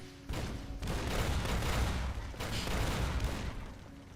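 Sustained gunfire and explosions from a firefight at a gate in Fallout: New Vegas, dense and loud for about four seconds with no talk over it.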